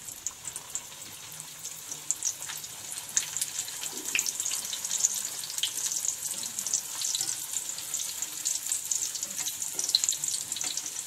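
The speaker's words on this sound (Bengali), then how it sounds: "সেটাকে আমি ছেড়ে দিচ্ছি তেলে।" Mughlai paratha sizzling in hot oil, a steady high crackle and fizz running continuously throughout with small pops, no voices.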